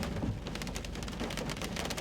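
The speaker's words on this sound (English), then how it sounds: "And enjoy the rain." Rain falling during a stormy spell in New Mexico, a dense, constant hiss and patter of drops with no voices, steady and fairly loud throughout.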